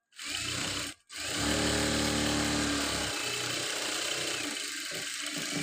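A sewing machine stitching a chudidar hums in a steady motor run of about two seconds, followed by quieter mechanical whirring and light clicks close by.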